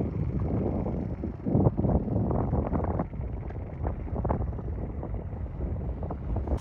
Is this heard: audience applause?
no